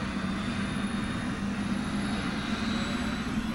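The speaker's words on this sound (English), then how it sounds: "That's our helicopter. That's our helicopter start." A helicopter starting up on a movie set, a steady loud engine whine with a constant low throbbing hum that runs unbroken throughout.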